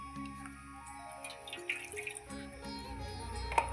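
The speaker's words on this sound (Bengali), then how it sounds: "এবার মশলাগুলো যেটা লেগেছিল সেটা গামলা ধুয়ে আমি দিয়ে দিচ্ছি।" Water sloshes and drips as a mixing bowl coated with leftover spice paste is rinsed and the water poured out while cauliflower bhapa is cooked in a home kitchen. The sound is soft and close, with irregular splashes and trickles.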